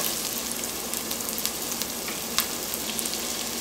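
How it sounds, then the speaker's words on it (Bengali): Chopped garlic, ginger and dried chilli fry in a pan for a Bangladeshi beef vuna, giving a loud, continuous sizzle with a few sharper crackles and pops. No voices are heard. "রসুন কুচি, আদা কুচি, শুকনো মরিচ দিয়ে জাস্ট 1-2 মিনিটের মতো একটু নেড়ে দেব।"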